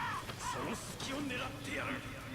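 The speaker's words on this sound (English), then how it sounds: "Am I just hearing the bird up there?" Crow cawing in the Nioh video game, a few harsh calls drifting over the game's ambience while a player talks over the top.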